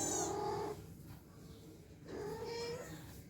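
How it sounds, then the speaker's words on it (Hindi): A cat gives two meows, close and fairly loud, separated by a short quiet gap, with no voices alongside. "वो बिल्ली।"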